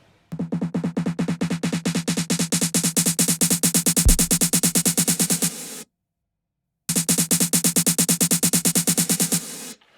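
A punchy, chopped-up music loop repeats with a fast steady pulse, stopping abruptly for about a second before resuming.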